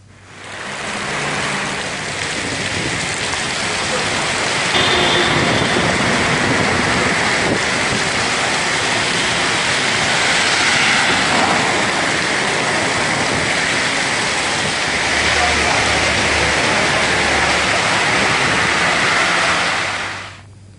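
Heavy rain pours down in Hyderabad as a steady, dense roar of falling water that holds at full strength from start to finish, with no voices.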